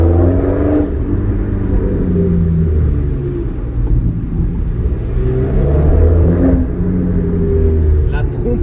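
A BMW E90 with MTS Technik and Eibach coilovers, its engine held at a steady, loud, deep rumble with slight swells in revs, droning on continuously and close by.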